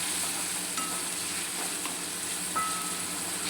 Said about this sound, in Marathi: तर व्यवस्थित त्याला कांद्याला आणि टमॅटोला शिजवून घेऊया आपण.